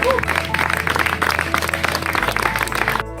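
An audience applauds steadily at a bocce event, with dense clapping and some crowd noise filling the room before the sound cuts off near the end.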